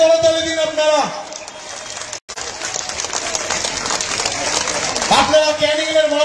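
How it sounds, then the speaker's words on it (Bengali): An audience at a public gathering in Canning, India claps in a steady burst of applause, mostly under a loud announcer's voice talking over a microphone. "জোরসে করতালি দিন আপনারা।"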